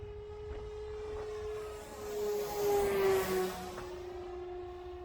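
An RC Sportster model airplane on a high-speed pass at full throttle, a steady high-pitched engine whine that swells as it nears overhead around the middle and then fades as it moves away.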